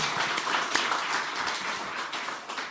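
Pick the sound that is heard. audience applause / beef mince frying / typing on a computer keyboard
audience applause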